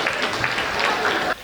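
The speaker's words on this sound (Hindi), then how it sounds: "क्या खतरनाक ताली बजा रहे हो आप" Steady, dense applause from an audience at a Hindi comedy poetry show (kavi sammelan), loud and close for over a second before cutting off abruptly.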